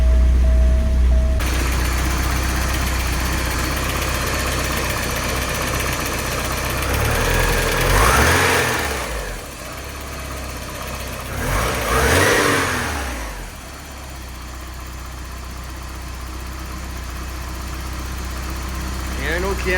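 Engine of a 1987 Porsche 944 S 16V running after a timing adjustment, a steady low idle with two rising revs and falling back, close and loud, with a brief voice over it.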